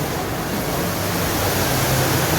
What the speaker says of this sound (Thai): นี่คือน้ำตกเป็นนองเอ๋ยน้ำตก ฟาดทางไอคอนสยาม